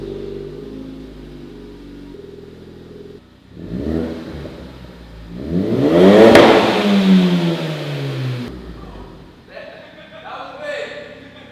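A Ford Focus ST with a 3-inch straight-pipe aftermarket exhaust idles low, then revs twice with rising and falling engine tones, the second rev loudest, before settling back to idle while people talk nearby.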